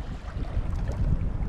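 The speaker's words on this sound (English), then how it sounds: "It's a bit windy and choppy" Gusty wind and choppy water slap around a small fishing boat at sea, with a steady rough rumble buffeting the microphone and no voices.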